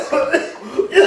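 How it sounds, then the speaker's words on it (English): A short burst of coughing, two or three rough hacks close together, close and fairly loud. "How long have you had that cough?"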